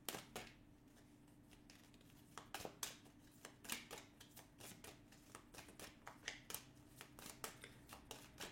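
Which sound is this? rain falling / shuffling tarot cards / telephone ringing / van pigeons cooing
shuffling tarot cards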